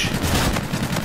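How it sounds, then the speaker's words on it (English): A shotgun fires in the first-person shooter Call of Duty: Infinite Warfare. Loud, close gunfire booms in quick succession across a short stretch of dense game noise. "That's a shotgun!"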